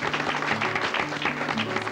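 A studio audience at a televised magic show applauds steadily, a dense wash of clapping that holds an even level for two seconds, with a low musical hum underneath.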